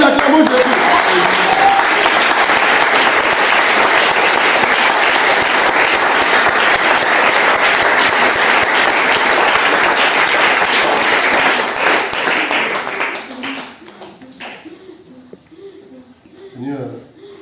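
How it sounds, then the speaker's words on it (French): At a church seminar, an audience claps in loud, dense applause with voices mixed in, holding steady for about twelve seconds before thinning out and dying away. "Acclamons Jésus."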